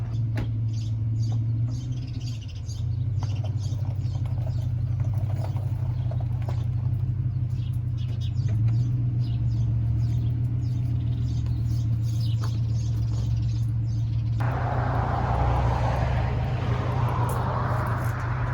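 A pickup truck engine idles under 1,000 RPM while backing up to hitch a 1977 Airstream trailer at a campground. The steady low drone holds throughout, with faint bird chirps and scattered clicks over it.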